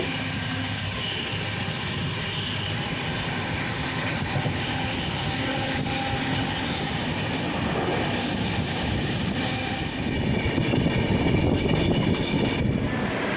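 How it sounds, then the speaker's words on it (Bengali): A passenger train pulling into New Jalpaiguri station near Darjeeling in the early morning gives a steady, loud rumble of wheels and carriages that swells louder toward the end, with no voices. "আমাদের ট্রেন কিন্তু পৌঁছে গেল এনজেপি স্টেশন দার্জিলিং"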